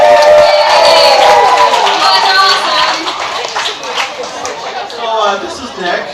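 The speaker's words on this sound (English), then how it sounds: "I don't know what we're cheering." An audience at the farewell concert cheers and shouts, many voices whooping together with scattered clapping, loud at first and then easing into mixed chatter.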